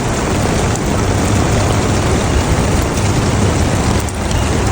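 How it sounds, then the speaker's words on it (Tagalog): Scattered rain falls in a desert country as a dense, steady, loud wash of noise that stays constant throughout with no voices. "So ayun na, scattered rain na dyan."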